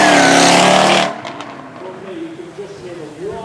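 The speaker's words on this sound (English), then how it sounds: "You can just hear a whine on that supercharger." A Jaguar F-Type sports car at a supercar weekend roars close by for about a second, then drops to a quieter, lingering engine drone with a thin whine.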